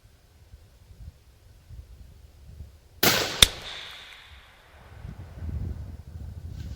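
A Savage 12 LRVP rifle fires one sharp, loud shot at a scope set up as a target 110 yards away, with an echo trailing off over quiet outdoor wind rumble.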